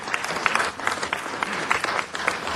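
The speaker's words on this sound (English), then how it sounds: "I think that deserves our applause." Audience applause at a city council meeting, brief and steady clapping from a room of people, with individual claps standing out across the short burst.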